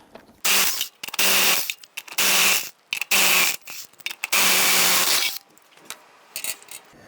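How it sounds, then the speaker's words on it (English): A 19mm socket turns lug nuts loose on a 1999-2004 Jeep Grand Cherokee wheel in loud ratcheting bursts. The bursts come in several separate runs broken by short pauses, close up and with no speech. "Using your 19mm socket, loosen and remove the lug nuts."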